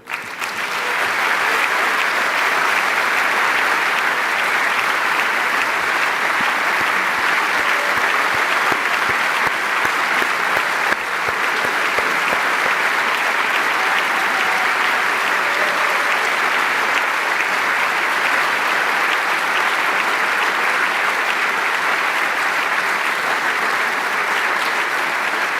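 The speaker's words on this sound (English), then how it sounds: "Listen to these applauds and never forget it." Sustained, loud applause from a large audience at a European political party congress, a dense even roar of clapping that holds steady for nearly half a minute with no break.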